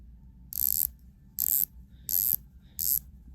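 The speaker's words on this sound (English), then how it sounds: "Let's take a listen to the bezel action on both." Four separate bursts of crisp, close-up clicking as the rotating dive bezel is turned on a Rolex Sea-Dweller Deepsea and an Omega Seamaster Planet Ocean, each burst a quick run of ratchet clicks with quiet gaps between.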